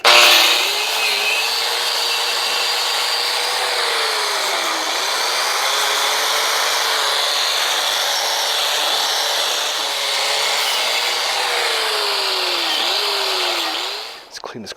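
An electric grinder, a cheap Black & Decker type, runs continuously while cleaning parts during the transmission service of a 1955 IH Farmall Cub tractor, a loud steady whine with slight pitch dips as it bears on the metal, stopping near the end.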